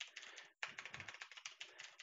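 Computer keyboard typing with a quick, irregular run of close key clicks, a brief pause, then more clattering keystrokes, fairly quiet and with no voices.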